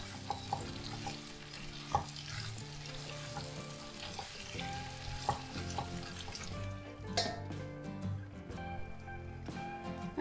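Chicken kadhai sizzling and frying in a pan, with steady crackle and occasional stirring scrapes throughout, no talking.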